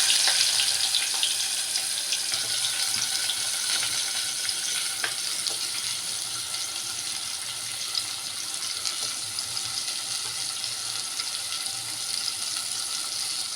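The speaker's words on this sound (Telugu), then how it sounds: "నూనె అయితే కాకపోయిందండి ఉల్లిపాయలు పచ్చిమిరపకాయలు వేసేసుకుంటున్నాను" Sliced onions and green chillies fry in oil that is not yet fully hot, producing a loud, steady, unbroken sizzling hiss close by with no talking.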